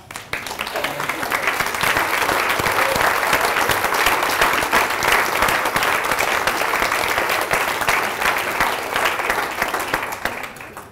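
Sustained applause from a standing audience at a gathering, steady dense clapping that swells quickly and holds loud and close for about ten seconds before easing slightly at the end.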